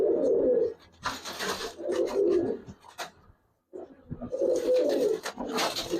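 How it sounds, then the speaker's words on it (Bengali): Two male Giribaz pigeons coo up close in two throaty bursts separated by a brief pause, with soft rustling between the calls. "এই যে দুইটা কবুতর, দুই নর, দুইটাই নর।"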